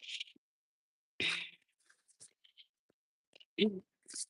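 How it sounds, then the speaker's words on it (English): Tarot cards shuffle in short bursts of papery riffling and flicking, with two louder shuffles and scattered small card taps between quiet gaps. "So I'm just shuffling up right now"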